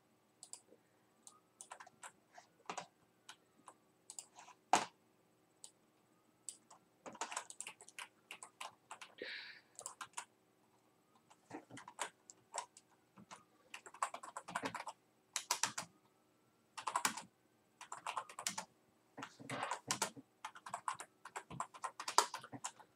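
Someone types on a computer keyboard during a live stream, with clusters of fast, crisp key clicks and short pauses between bursts; the clicks are close and fairly quiet, with no talking.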